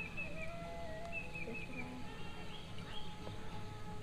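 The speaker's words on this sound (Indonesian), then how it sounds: "Oh ternyata ini suara burung hingki kata si emaknya" Hingki bird calling outdoors in a quiet village morning, several thin high chirps and short whistled notes scattered over steady low background rumble, faint and somewhat distant.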